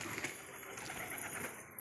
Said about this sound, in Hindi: ये कबूतर एक एक करके सारे बाहर निकल कर आ रहे हैं